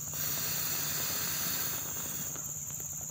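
A portable mini camping stove gives a steady close gas hiss and roar that carries on, then drops slightly softer near the end as it is shut off and the flame dies.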